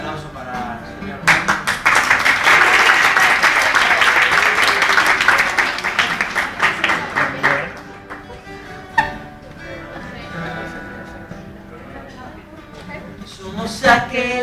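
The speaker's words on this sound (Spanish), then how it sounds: "Ahora el aplauso para el señor." Audience at an acoustic pop concert breaking into applause, a dense, loud wash of clapping that swells early, holds for several seconds, then thins into scattered claps with a few louder bursts near the end.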